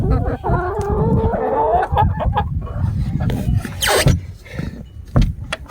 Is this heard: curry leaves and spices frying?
no